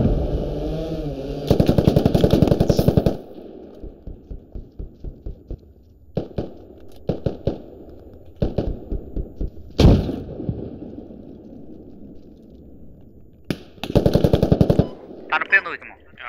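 Gunfire in the military shooter Squad crackles in rapid automatic bursts and scattered single shots, loud and close, with quiet pauses between volleys and muffled voices talking in the gaps.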